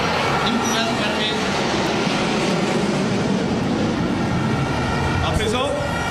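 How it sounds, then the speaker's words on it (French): Su-24 tactical bomber jets passing overhead during a national celebration flypast in Bamako, Mali: a loud continuous roaring rumble that fills the whole stretch, with crowd noise and a voice faintly beneath it. "le ciel gronde sous le passage des Su-24, avions de bombardement tactique conçus pour les frappes en profondeur"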